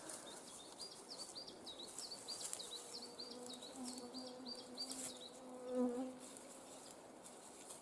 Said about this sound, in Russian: Комаров тоже много. Жужжат.